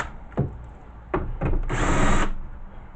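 A power drill backs screws out of a flat-screen computer monitor, with a few sharp clicks and knocks followed by a steady whirring burst of about half a second, heard up close.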